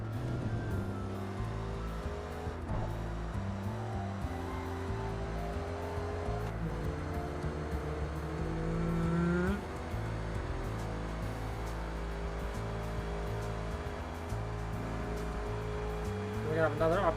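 Race car engine in Forza Motorsport 3, a continuous droning roar with shifting pitch as the car accelerates and brakes through chicanes, loud and steady throughout.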